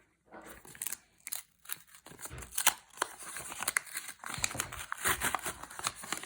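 A plastic packet crinkles and rustles up close in irregular bursts of crackling, with brief pauses between handlings.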